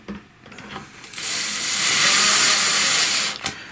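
A power drill runs in one sustained burst, setting screws into a Kirby Sentria vacuum during an impeller replacement, with brief clicks at the start and end; it is fairly near and steady, with no talk.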